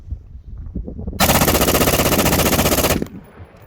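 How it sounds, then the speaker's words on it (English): A Hellfire Stealth trigger device on a gun fires a loud, rapid burst of about two seconds of fast, evenly spaced shots after a moment of quieter handling noise, then cuts off abruptly. "So you just lightly squeeze the trigger of the gun."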